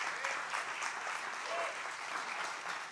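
A church congregation claps for the Lord during a Spanish-language sermon, giving steady, dense applause from many hands that fills the space evenly for about three seconds, with no talking over it.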